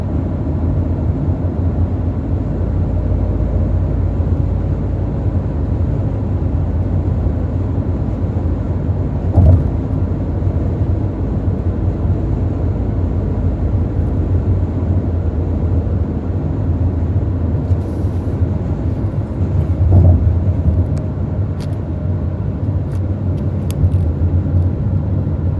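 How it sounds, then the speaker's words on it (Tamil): Steady road traffic rumble on a hot day at a spot in Saudi Arabia that is always congested, with continuous low engine drone and a couple of slightly louder passing vehicles, no voices. "இந்த இடம் பார்த்தீங்கன்னா எப்போவுமே டிராஃபிக் ஆகும்."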